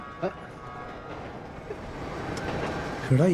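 Low rumbling of a train in a metro station, with brief voices speaking over the steady mechanical noise.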